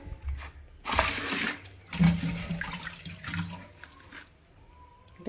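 Rinsing water drains from freshly washed leafy greens in a village kitchen, arriving in short splashing gushes and trickles between quieter pauses, close and moderately loud.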